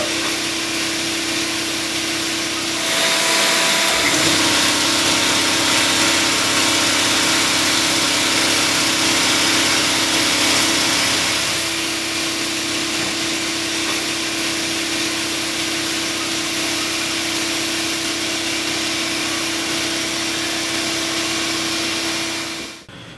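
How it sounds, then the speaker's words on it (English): Loud, continuous hiss and hum of an abrasive blast cabinet blasting a knife fresh off a CNC end mill with silicon carbide, a steady roar with a motor tone that shifts slightly partway through, no voices. "blast it now with some silicon carbide"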